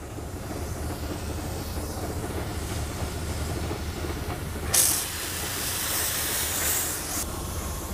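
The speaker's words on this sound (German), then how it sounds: "Wir haben jetzt schon 2 Bar am Ausgang und können jetzt ganz normal hier diesen Ausgang aufmachen." A Rosenbauer FPN 10-3000 fire pump at about 2 bar has its outlet opened, a steady broad rush of water and machine noise swelling into a louder hissing surge midway, no talk.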